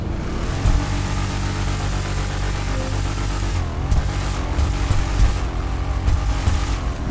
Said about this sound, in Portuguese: Olha o ronco que ela tá, rapaziada, no escapamento desmiolado.